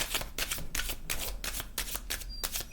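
Oracle cards being shuffled by hand, a quick run of riffling bursts repeating in a steady rhythm, close and fairly quiet, with no talking.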